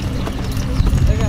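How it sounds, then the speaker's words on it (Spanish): Horses' hooves clop along in a cavalcade for a quinceañera celebration in Guadalcázar, San Luis Potosí, a busy low thudding under steady voices and outdoor crowd noise. "Mira los caballos, ahí vienen."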